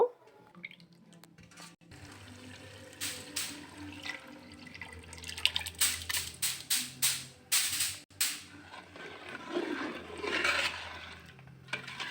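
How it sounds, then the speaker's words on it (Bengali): Soaked haleem mix is poured into pan-cooked meat, with wet splashing and plopping that comes in irregular bursts, some sharp and loud, over a faint background, and no speech. "এখন আমি কষানো মাংসের মধ্যে এটা ঢেলে দিব"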